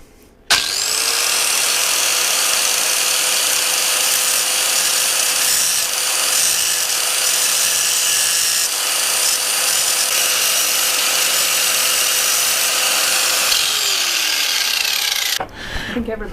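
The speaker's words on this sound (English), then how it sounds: "I think everybody should have an angle grinder." An angle grinder starts up and cuts through a motorcycle chain on a BMW S1000RR during a chain and sprocket swap, giving a loud, sustained high-pitched grinding whine before spinning down.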